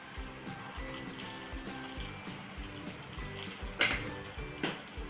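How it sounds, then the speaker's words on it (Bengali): Spice paste with salt and cumin powder sizzling and frying steadily in a pan at home, with faint utensil clinks and a brief scrape of stirring, close and continuous. "তো মশলাটা এখন একদম পুরো কষিয়ে নেব, দেন পনিরটা দিয়ে দেব।"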